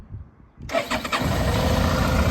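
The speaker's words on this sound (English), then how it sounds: "Let me get it started up and you can hear how she sounds." A 2011 Suzuki V-Strom 650 motorcycle engine cranks briefly and catches, then settles into a steady, loud, close idle with no talking.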